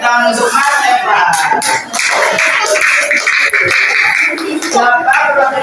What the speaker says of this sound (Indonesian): Oke, kita tepuk tangan untuk Mas Evan.